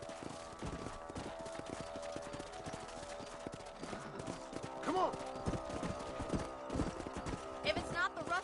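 Horse hooves clip-clop steadily on a ranch in a Western video game, with a brief whinny partway through as someone speaks a few words over the hoofbeats.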